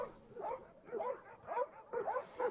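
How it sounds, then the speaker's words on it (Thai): A Mexican rescue dog deployed to earthquake-hit Turkey gives a run of about five close, rhythmic yelping barks spaced roughly half a second apart, with no voices over them. "โปรเทโอเป็นหนึ่งใน 16 สุนัขกู้ภัยที่เม็กซิโกส่งไปช่วยเหลือตุรกี"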